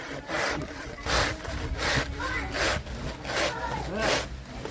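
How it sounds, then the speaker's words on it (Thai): Rhythmic back-and-forth strokes of a hand saw cutting through a soft, moist banana trunk, about eight even strokes, close and clear. "ครับวันนี้ก็ เลื่อยต้นกล้วยครับ"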